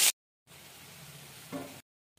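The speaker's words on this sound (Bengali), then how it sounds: "এই তেলে আলুগুলো ভেজে নেব" Potatoes frying in oil after fritters were cooked in the same oil, a soft, faint bubbling sizzle lasting just over a second, framed by brief bursts of other noise at the start and end.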